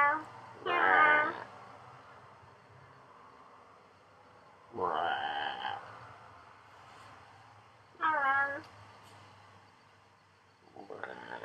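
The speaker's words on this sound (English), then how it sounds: "the crow. Sometimes it goes, meow, meow." A crow gives meow-like, cat-sounding calls, three or four separate drawn-out cries spaced a few seconds apart, fairly close and alone against a quiet background.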